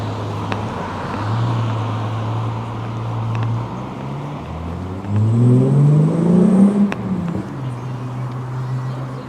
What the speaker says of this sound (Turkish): BMW sesiydi. E30 muydu o bilemedim.